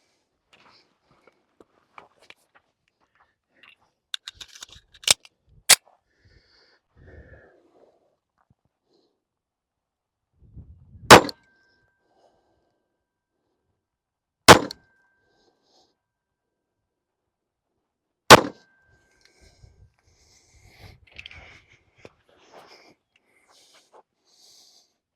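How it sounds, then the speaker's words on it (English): Five sharp, loud reports from a Colt Combat Commander 1911 .45 ACP pistol fired at a target from 7 yards, spaced irregularly with two quick shots early and three single shots after, with quiet handling noise in between. "we're gonna shoot this target and we're gonna just"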